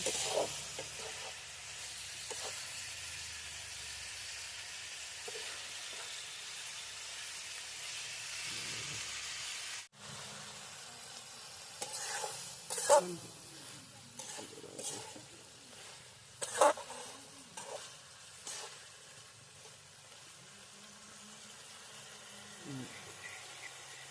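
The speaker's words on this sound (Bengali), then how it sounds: "আর কেটে রাখা পেঁয়াজ সাইগুলো দিয়ে দেবো। ভালো করে ভেজে নিই।" Chopped onions fry in a pan during outdoor village cooking, with a steady hiss and sizzle. Intermittent scraping and stirring clatter rises partway through, and a voice speaks at times over the frying.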